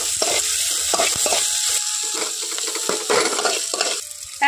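Chopped onion drops into hot oil with ginger, green chilli and mustard seeds, sizzling under repeated stirring scrapes and spoon clinks for a village-style banana flower dish, close and fairly loud.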